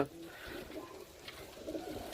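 Game pigeons offered for sale coo softly in a low, rolling murmur that overlaps throughout, faint and close against quiet background noise.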